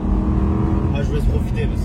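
Aston Martin V8 Roadster engine running with a deep, steady low rumble, heard from close by under a brief spoken remark.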